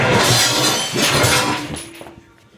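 Objects knocked off a glass tabletop by a cat crash down in a loud, messy burst of clattering and clinking, then settle into quiet within a couple of seconds.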